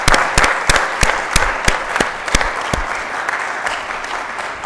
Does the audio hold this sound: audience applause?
yes